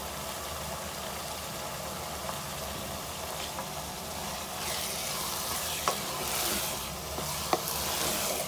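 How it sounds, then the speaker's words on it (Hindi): Kata kat mixture with green chillies and coriander sizzles steadily as it roasts in a pan, a continuous frying hiss with occasional sharp clicks of a utensil stirring and scraping. "1 से 2 मिनट और इसको अच्छी तरह भून लेते हैं।"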